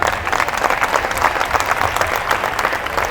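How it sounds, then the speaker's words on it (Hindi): Audience clapping at a Hindu satsang gathering, a steady dense patter of many hands sustained evenly throughout at moderate loudness, with no voices over it. "मैं उनके लिए एक बार मैं स्वयं ताली बजाना चाहती हूँ।"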